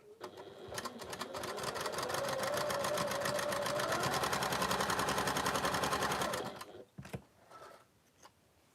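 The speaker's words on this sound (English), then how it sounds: "I just sew a 1/4 of an inch seam down the edge of that block there" A domestic sewing machine stitches a quarter-inch seam along the edge of a quilt block, a rapid even whirring hum lasting several seconds before stopping, followed by a few soft handling knocks.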